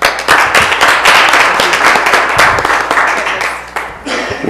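Applause from a crowd at a Saratoga Springs city planning commission meeting, steady dense clapping that holds for several seconds before thinning out at the end, with voices faintly mixed in.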